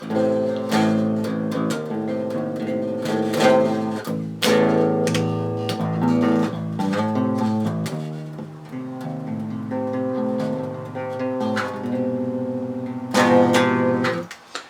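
Electric guitar through an ENGL Powerball MK.I tube amplifier, channel 1 at low gain, with light, warm overdrive, playing strummed chords and short riffs with ringing sustain, no voices.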